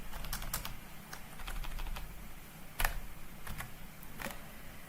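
Computer keyboard typing while entering details into a customer return order in Dynamics 365 Business Central: steady soft clicking keystrokes with a couple of sharper taps, close and without speech.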